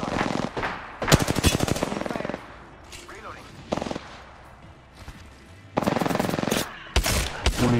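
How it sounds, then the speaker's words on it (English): Rapid automatic gunfire in an Apex Legends match at Skull Town, with several loud close bursts separated by quieter gaps and faint player voices between them. "Getting shot at."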